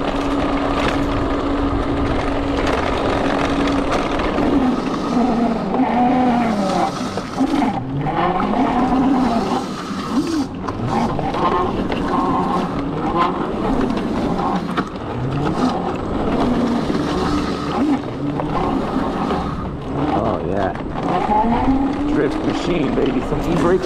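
A Segway Ninebot GoKart Pro electric go-kart is driven fast and hard, its tires squealing and skidding in repeated bursts along with a steady whining drive, loud and close, with a voice mixed in.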